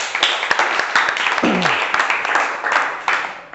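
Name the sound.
applause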